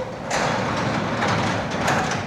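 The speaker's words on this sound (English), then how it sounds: "lift the door. The spring takes care of it, and it goes all the way up" A spring-assisted garage door swings up after being lifted by hand in a rural garage, giving a steady rolling, rumbling mechanical sound that lasts about two seconds, fairly loud and close, with no talk.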